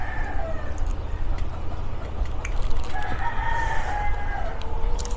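Chickens outdoors with roosters crowing in long drawn calls over a constant low rumble, scattered clucks and bird sounds mixed in.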